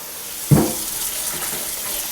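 Cold water from a kitchen tap gushes into a bowl, starting with a sudden splash and settling into a steady, close rush of filling water. No voices.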